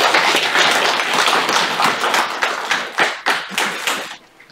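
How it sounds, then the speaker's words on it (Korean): A church congregation claps together at an ordination service, a dense wash of hand claps that thins into a few scattered, louder claps before fading out near the end. "우리 박수 한번 하겠습니다."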